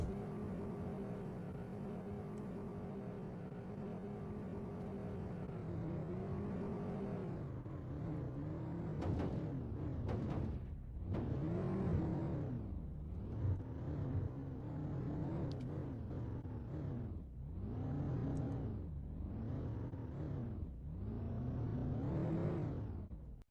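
A car driven in the video game Planet Crafter, a steady engine hum giving way to repeated surging revs that rise and fall in waves, fairly loud and without voices.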